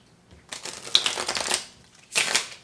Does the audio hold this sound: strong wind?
no